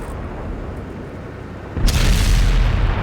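Artillery shell hitting a tank in the video game World of Tanks, a sudden loud boom that arrives after a low game rumble and sustains as a heavy, noisy roar.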